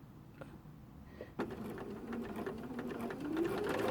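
A sewing machine chain-pieces cream and navy patchwork quilt blocks: after a quiet start, the motor kicks in and runs steadily with a rapid needle rattle, close and moderately loud, rising slightly in pitch.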